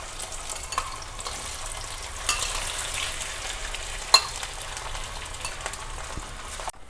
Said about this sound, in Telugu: నూనె వేడెక్కాక బంగాళదుంప ముక్కలు ఆయిల్లో వేసుకోండి.